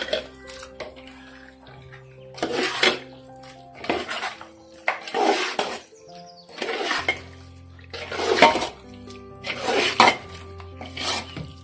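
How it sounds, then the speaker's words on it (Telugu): Ingredients mixed together in a pot with a utensil: a series of clattering, scraping strokes against metal about every second or two, close and fairly loud, with quiet pauses between. "ఇప్పుడు ఇదంతా కలిపి చక్కగా కలుపుకొని"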